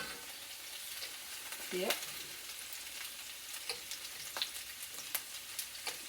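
Potatoes fry in bacon grease in a pan, a soft steady sizzle and crackle with scattered small pops and a few utensil scrapes; a voice speaks briefly once.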